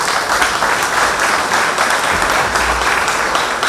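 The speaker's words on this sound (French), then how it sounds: "Est-ce qu'on peut applaudir encore plus fort pour ces enfants, s'il vous plaît?" Audience applause for children at a life celebration in Washington DC, a loud, even roar of clapping from a large crowd, continuous and close for the whole span.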